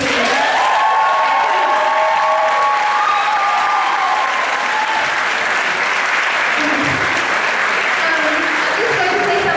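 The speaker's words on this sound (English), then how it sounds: "can we please give them a round of applause for this student?" Loud, sustained audience applause for students at a college Latin dance event, dense clapping from a large crowd with scattered cheers, continuous throughout and close.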